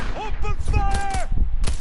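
Gunfire in the video game Cyberpunk 2077: a few sharp, loud shot bursts crack out under and between shouting voices during a brief firefight.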